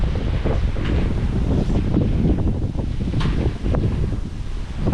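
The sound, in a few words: strong wind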